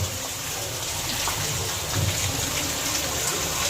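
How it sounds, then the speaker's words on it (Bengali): Heavy rain pouring outside, a dense, steady roaring wash of water with no breaks, loud and close, alone without voices. "বাহিরে অনেক বৃষ্টি হচ্ছে একভাবে"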